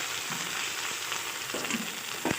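Ginger paste frying in hot oil in a pan for a Bengali fish-head and cabbage dish, a constant bright sizzle with a few soft utensil scrapes and a sharper knock near the end, close by.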